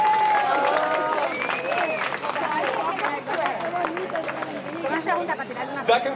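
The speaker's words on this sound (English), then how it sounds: "How about a round of applause for our award recipients?" Audience applause for award recipients at a National Night Out community event, a dense, steady wash of clapping with crowd chatter and cheering throughout.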